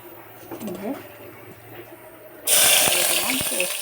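Chopped onion dropped into hot oil in a pot, a sudden loud burst of sizzling that stays bright and steady after a stretch of quieter kitchen sounds and talking.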